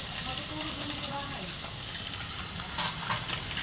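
Mixed vegetables and tomato sizzling in a pan for diningding while being stirred, a steady close frying hiss with a few scraping stir sounds near the end.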